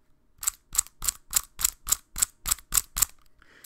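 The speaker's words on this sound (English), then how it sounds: "It's got like a ridiculous clicking mechanism in it." A Xiaomi GiiKER smart cube being turned gives ten sharp, evenly spaced mechanical clicks, close and crisp, with a faint rustle at the end.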